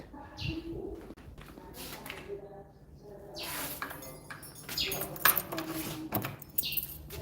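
A few bird calls, including soft cooing, sound nearby amid clinks and background noise; no clear talking.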